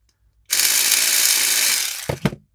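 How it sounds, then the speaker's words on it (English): A homemade electric pick gun works on a padlock, a loud, continuous buzzing rattle lasting about a second and a half, then stopping with two sharp clacks. "this thing opens up like butter with this homemade pick gun"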